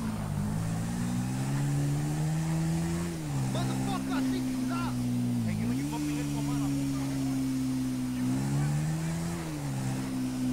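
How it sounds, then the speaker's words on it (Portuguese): A motorcycle engine in the video game GTA V drones, rising and falling in pitch through several revs and shifts, steady and loud, with a voice talking faintly underneath. "a moto subiu bastante agora"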